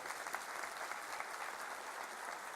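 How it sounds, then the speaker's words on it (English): A school audience at a senior annual day at Sindhi High School in Hebbal gives a round of applause for the teachers: steady, dense clapping from a crowd, heard somewhat faint and distant. "A big round of applause to all of them"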